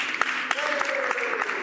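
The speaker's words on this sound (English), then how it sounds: "I'd like to thank my colleagues for that great round of applause" A round of applause rings through the House of Commons chamber, a steady wash of clapping with a few sharper claps standing out, with voices murmuring underneath.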